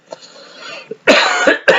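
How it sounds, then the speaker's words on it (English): A man coughs hard several times up close, a short rough hack followed by two loud bursts with a brief gap between them and no speech. "That's what I've done is cough."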